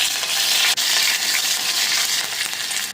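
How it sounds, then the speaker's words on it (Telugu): Cumin, mustard seeds, crushed garlic, dried red chillies and curry leaves fry loudly in oil right up close, a bright, continuous sizzle with one brief clatter near the start. "జీలకర్ర ఆవాలు వేగిన తర్వాత ఐదు వెల్లుల్లి రెమ్మలు వేసుకున్నాను కొంచెం దంచి ఇవి కూడా కొంచెం వేగాలి"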